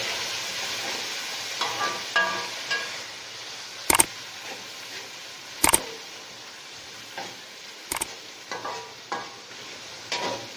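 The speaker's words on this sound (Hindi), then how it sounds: "फिर जनाब इसमें डालेंगे टमाटर।" Tomatoes sizzle and fry in spice masala for a spicy chana pulao, with a steady hiss broken by the scrape of a stirring spoon and a few sharp clanks against the pan, close up and with no talking.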